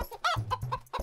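A cartoon chicken clucks in a quick run of short, close, bright squawking calls, alone without talk.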